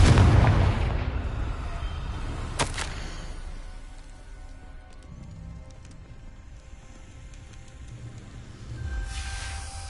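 A Confringo fire-blast spell goes off in the Hogwarts Legacy video game. A loud rumbling burst opens the clip, a sharp crack follows near the three-second mark, and a dull, low roar fades before a second surge at the end.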